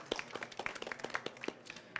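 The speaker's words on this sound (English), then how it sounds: "Let's have a round of applause." A small audience claps at a book awards presentation, a brief patter of individual hand claps at a quick uneven rhythm, fairly close and moderately loud, lasting about two seconds.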